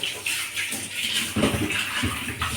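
Fish pieces cut with kitchen scissors being rinsed under a running tap, water splashing and gurgling steadily and close, with small bursts as the fish is handled.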